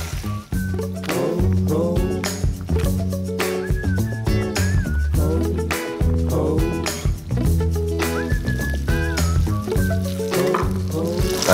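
Chopped garlic and shallot sauté in olive oil and butter in a pot, making a continuous loud sizzle with repeated stirring scrapes and clatter. Faint tonal whistles occasionally sound over it, with no voices.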